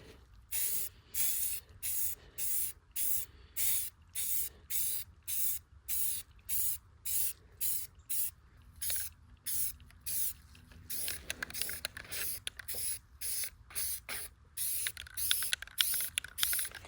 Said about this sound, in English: We're gonna use this 2x primer, white primer. It's just a spray can.